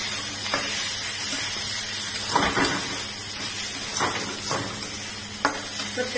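Chillies, peanuts and dal being stirred in a hot pan, a steady sizzle of frying with several scraping strokes of a spoon at irregular intervals, close by, with no talking.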